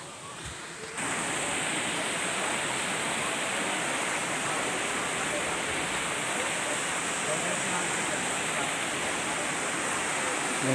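Secret Falls in Doña Remedios Trinidad pours with a constant, dense roar of falling water close at hand, rising to full strength after a quieter first second and holding steady.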